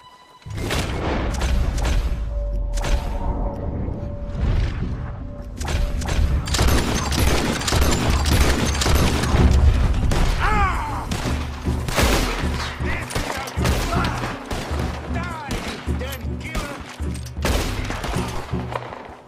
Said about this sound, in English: Pulling out our gun, we kill all of Flacco's men, and can now approach the cabin.